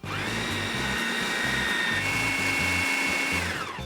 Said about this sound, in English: So we're gonna blend it for 30 seconds or until it's smooth.